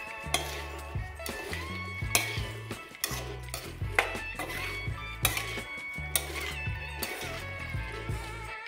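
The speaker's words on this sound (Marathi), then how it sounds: "तर आता मी ह्या सर्व शेंगा मसाल्यामध्ये चांगल्या प्रकारे मिक्स करून घेणार आहे" A spoon scrapes and clinks as flat bean pods, Indian val beans, are stirred into a spice masala in a pan, with repeated rhythmic stirring strokes and metallic clatter, close and clear, and no talking.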